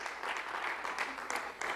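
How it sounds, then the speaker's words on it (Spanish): A church congregation applauds during a worship service, a soft, distant wash of clapping that holds steady for a brief moment. "¿Puedes dar un aplauso al Señor?"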